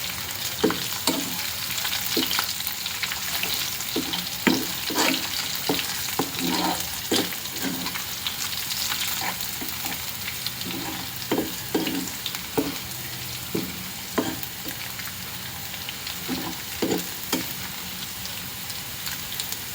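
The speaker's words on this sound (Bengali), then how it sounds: "পেঁয়াজ রসুন, বেশি কালো করবো না, কালো করলে তিতা লাগবে" Onion and garlic frying in olive oil make a dense, steady sizzle and crackle, up close and unbroken, with faint intermittent stirring taps and no voices.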